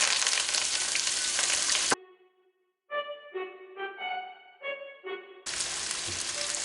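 A hot pan fries food for Thai prawn lime noodles with a loud, dense sizzle that cuts out for a few seconds, broken by spaced tonal clinks, then the sizzle returns.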